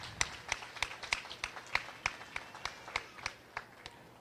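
Steady applause from a modest audience at a 4-H rabbit show as the crowd honors the judge; individual claps ring out in an even, brisk rhythm before gradually thinning.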